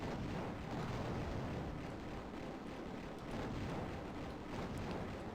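A bomb explosion in the shoot-'em-up video game Raptor: Call of the Shadows gives a continuous low, rumbling blast that stays fairly quiet and steady throughout, with no speech.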